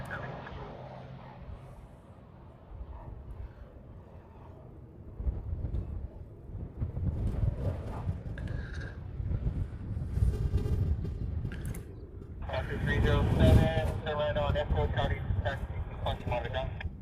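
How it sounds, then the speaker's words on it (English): Wind buffets a wireless microphone outdoors at a Hawaii plane-spotting site, producing a steady low rumbling roar that swells and fades while someone talks over it. "The wind, hold on, the wind blew my hat off"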